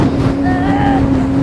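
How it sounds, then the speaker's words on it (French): Strong wind buffets the microphone with a loud, continuous roar, while a steady low hum runs underneath, in Torres del Paine National Park, Chile, near a glacier-topped mountain. "le vent est tellement fort"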